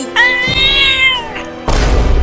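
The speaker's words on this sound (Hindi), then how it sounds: "बिल्ली भी मुझे काटने वाली है" A cat gives a loud, close meow with a drawn-out, wavering tone, followed by a short second cry, then a burst of thumping noise at the end.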